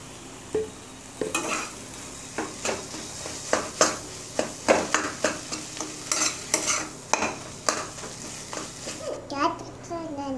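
Grated potato being stirred into a spicy masala in a pan, with a steady sizzle under rhythmic scraping strokes repeating every half second or so, close and fairly loud.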